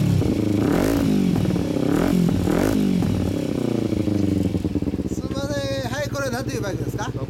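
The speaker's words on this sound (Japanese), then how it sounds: "ごめん、あのエンジン音聞かせてもらえる。" A 2014 Kawasaki Ninja 250 with an Akrapovič exhaust revs hard several times up close with a loud, throaty note, then settles into a rough idle while someone talks over it.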